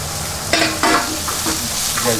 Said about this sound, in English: just gently mix it with the potatoes into that.